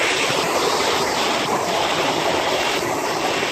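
Water pours and splashes down at a shipwreck-themed water park play area at Walt Disney World, a loud continuous rushing close by, with no voices.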